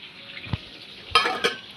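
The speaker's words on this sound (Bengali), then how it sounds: "মাছ ভাজা হচ্ছে" Fish frying in a pan for a fish and potato curry, a soft steady sizzle broken by two short clattering bursts of utensil against the pan, close by and without speech.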